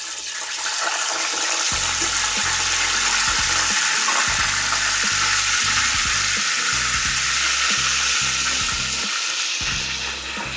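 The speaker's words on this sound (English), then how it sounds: "Now we got that oil up to 400 degrees, and then I'm gonna put all my shrimp in" Shrimp plunged into oil heated to 400 degrees for honey walnut shrimp, a loud, dense, steady roar of deep-frying bubbles with a low rumbling undertone throughout.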